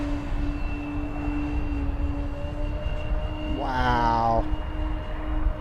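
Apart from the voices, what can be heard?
RC airplane electric motor running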